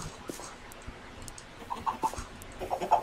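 Chickens clucking on a farm in the Minecraft video game, several short, fairly quiet clucks that come in bursts toward the end over a soft, steady background.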